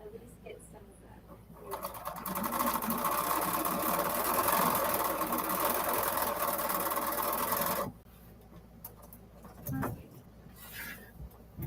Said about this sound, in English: I'm going to take a little piece of batting and do a test before I start quilting